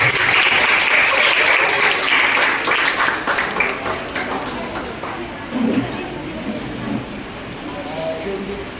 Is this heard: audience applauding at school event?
yes